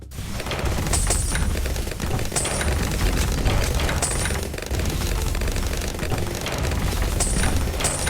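Continuous, dense booming and crackling explosions from Bloons TD 6 gameplay, loud and unbroken for several seconds, with repeated bright whistling bursts layered over the rumbling barrage.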